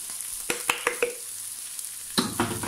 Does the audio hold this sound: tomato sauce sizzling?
yes